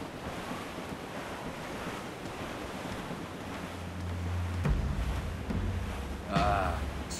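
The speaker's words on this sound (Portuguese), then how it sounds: "O vento está forte agora." Strong wind at sea aboard a sailing ship in Assassin's Creed IV: Black Flag, with a continuous rushing gust and wave wash, a low creak and thump midway, and the wind swelling louder toward the end.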